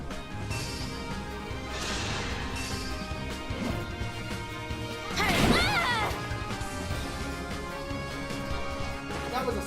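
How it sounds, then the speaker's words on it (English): A loud smash impact from a combat attack in the tactical game Fire Emblem Engage, one prominent crashing hit bursting out midway over busy game music and voices. "That was a smash."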